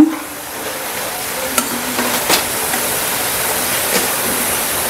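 Seedai, a rice flour snack, frying in hot oil on a slow flame for Krishna Jayanthi, producing a loud, even bubbling hiss with a few soft taps as the pieces are gently turned.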